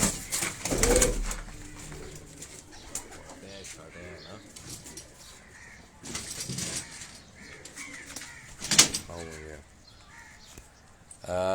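Pigeons coo on a Karachi rooftop in soft, scattered calls, with occasional bursts of wing flapping and someone talking intermittently over the birds.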